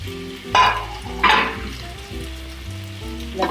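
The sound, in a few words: chicken and onions being stirred in a frying pan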